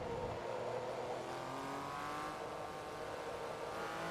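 A Porsche GT3 race car in Forza Motorsport 2 roars at sustained high revs, its engine note climbing steadily in pitch with a hint of tire squeal, loud and continuous with no talking.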